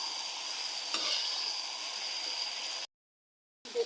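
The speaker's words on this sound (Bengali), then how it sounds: "দেখুন লতিকে কষিয়ে লতিটা একদম ভাজা ভাজা করে ফেলছে।" Taro stolons stir-fried in a pan until well browned, giving a continuous, close hissing sizzle with scraping stirs, a short break of silence, then sizzling again; no talking.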